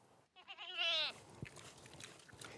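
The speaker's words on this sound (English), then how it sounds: "so I just call him Goat" A single loud, wavering goat bleat rises and breaks off, followed by quieter shuffling and faint background noise.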